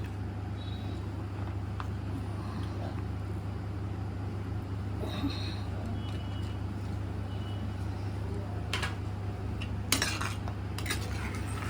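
A spoon stirs prawns and other ingredients with mayonnaise in a bowl for butter garlic prawns, with soft clinks and scrapes over a constant low background hum and a louder knock near the end.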